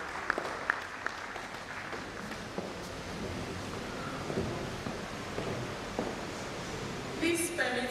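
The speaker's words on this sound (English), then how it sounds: "Please, a round of applause for her as she comes forward." Audience applause fills a university management sciences conference hall, a sustained wash of many hands clapping at moderate distance, with a voice faintly underneath near the end.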